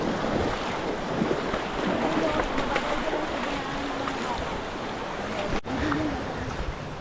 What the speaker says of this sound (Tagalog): Medyo malakas lang ang agos ngayon pero okay naman.